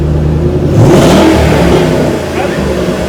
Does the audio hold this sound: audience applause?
no